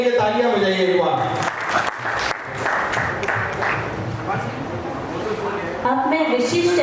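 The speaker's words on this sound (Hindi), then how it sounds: "इनके लिए तालियां बजाइए एक बार।" An audience at a religious and astrology conference and awards ceremony applauds for several seconds, a dense crowd of clapping between short stretches of someone speaking before and after.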